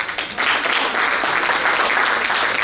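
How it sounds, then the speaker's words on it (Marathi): Loud audience applause fills a hall at a Marathi souvenir-booklet launch event, a thick, sustained burst of many hands clapping at close range without pause. "एकदा जोरदार टाळ्या होऊ द्या।"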